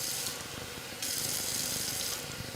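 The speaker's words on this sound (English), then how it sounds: "they said add some more water. hot water." Hot water running from a tap into a container while dyeing cross stitch fabric with Rit dye, a steady broadband hiss and splash that grows louder partway through, with no talk over it.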